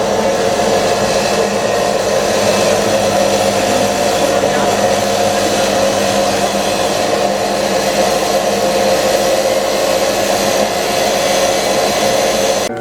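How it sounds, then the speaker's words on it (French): A yarn skein winder machine running steadily, a loud continuous motor whir with a constant hum that holds unchanged throughout and stops abruptly at the very end. "Voilà, la machine à écheveau."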